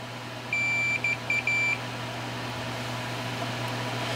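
A multimeter set to continuity gives a steady electronic beep while its probes test a relay's switching contacts, sounding as one long tone followed by three short close beeps over a low hum, then quiet.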